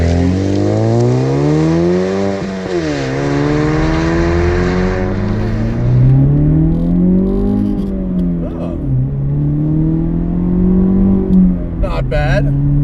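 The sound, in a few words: 2016 Chevrolet Camaro 2.0T accelerating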